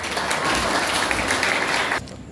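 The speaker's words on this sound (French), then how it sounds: "Je vous invite, frères et sœurs, de les applaudir." A congregation at a wedding ceremony bursts into a dense, loud round of clapping that ends abruptly after about two seconds, with no talking.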